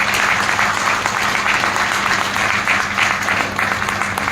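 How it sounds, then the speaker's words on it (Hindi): An audience at an indoor talk on kangen water and infertility claps in steady, dense applause that holds at a constant loud level throughout. "तो अभी खुद के लिए तालियां बजाओ."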